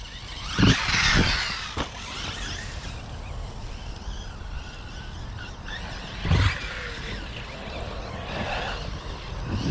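Hobao Hyper electric radio-controlled buggies racing across a meadow, a continuous whining motor buzz that swells as a car passes close, with a few louder whooshing surges over an outdoor background.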